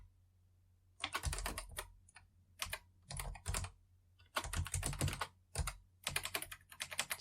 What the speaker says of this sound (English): I keep hitting the slash key because I'm not used to this keyboard that well